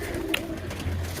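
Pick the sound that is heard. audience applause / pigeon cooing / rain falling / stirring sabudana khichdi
pigeon cooing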